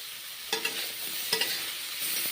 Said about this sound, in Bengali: ভেজে নিচ্ছি এখন পেঁয়াজগুলো ভেজে নিতে হবে